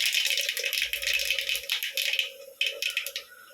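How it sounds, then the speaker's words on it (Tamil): Mustard seeds splutter in hot oil in a pan while prawn thokku is cooked, a close, dense crackling and popping that thins into scattered pops toward the end. "கடுகு பொரிச்சிச்சு."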